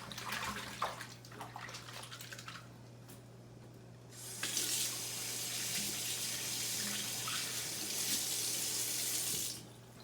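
Kitchen tap water running in a sink while hands are rinsed, a soft splashing flow at first that swells into a louder, steady hiss of water before cutting off near the end; no talking.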